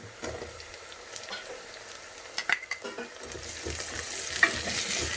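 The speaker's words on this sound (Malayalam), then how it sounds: "അതിലേക്ക് നമ്മൾ 10 ചെറിയ ഉള്ളി നീളത്തിലരിഞ്ഞത് ചേർത്ത് കൊടുക്കുന്നു." Sliced shallots and onions sizzle in a pan for a mutton curry, stirred with a utensil that scrapes and clinks against the pan in close, intermittent bursts over a soft background fry, with no voices.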